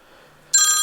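A telephone suddenly starts ringing loud and close with a bright electronic trill after a near-silent room tone.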